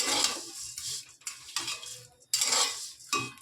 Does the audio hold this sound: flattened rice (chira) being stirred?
yes